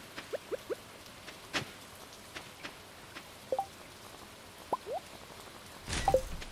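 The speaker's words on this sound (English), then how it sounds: "it is a rainy day on the island." Rain on the island in the video game Stardew Valley: a quiet, sparse patter of scattered drops and light plops, with a slightly denser cluster of splashes near the end.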